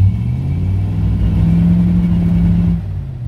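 A car engine, started for the first time in 45 days, runs loud and close with a low rumbling idle that swells into a steady rev before easing off.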